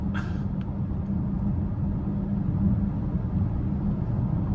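Low steady road rumble inside a 2025 BMW X5 M60i on bigger wheels while driving, a constant muted cabin drone with a faint brief click at the start.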